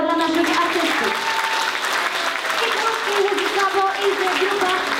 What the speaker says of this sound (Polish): Wielkie brawa dla naszych artystów.